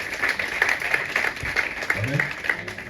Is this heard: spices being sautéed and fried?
no